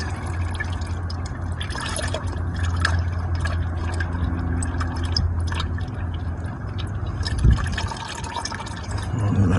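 Automatic transmission oil from a ZF 6HP gearbox drains steadily into a pan, a continuous close trickle and dribble of liquid with a low hum underneath and one brief knock near the end.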